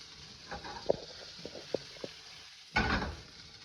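Biscuits and jerk turkey sausage frying in a pan, a steady soft sizzle with a few sharp pops and a louder rush of sizzle near the end, close up with no talking.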